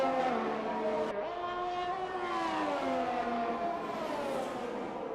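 An F1 race car in a video game of the Portuguese Grand Prix, its engine screaming as it accelerates hard, climbing through the revs with a quick gear change early on, loud and continuous throughout.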